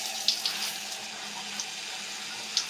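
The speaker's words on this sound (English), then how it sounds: "Okay, now my water is finally warm." Warm water runs steadily from a tap during a curly-hair wash-and-go routine, a continuous close hiss with a few small splashes and no talking.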